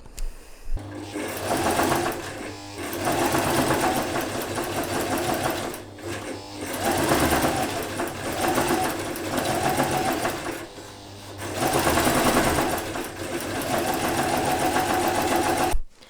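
Sewing machine stitching fabric layers for a babydoll top, running in steady close bursts of rapid mechanical whirring with brief pauses between runs, no voices heard.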